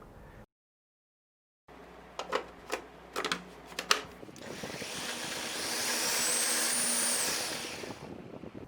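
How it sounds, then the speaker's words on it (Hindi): Bread slices are ground into crumbs in a food processor: a few sharp clattering knocks give way to a rising, sustained whirring grind that fades out at the end. "अब आप 3 स्लाइसेस लेकर इन्हें फूड प्रोसेसर में ग्राइंड कर लें।"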